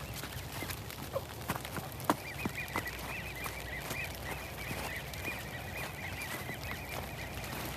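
Ducks quack and honk in a steady chorus against outdoor background noise, with several louder calls standing out and occasional knocks and thumps nearby.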